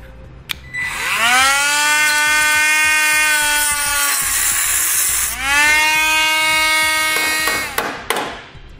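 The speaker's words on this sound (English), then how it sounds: "We'll now need to cut the stud off on the front where we removed our steel plate" High-speed power tool cutting off a steel stud on the front of a 2018 Jeep during a base plate installation: two loud, close whining cuts, each spinning up to a sustained shrill pitch before winding down.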